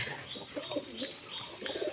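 Silver pigeons coo softly in a breeding house, with a few low throaty coos and faint chirps over a quiet background.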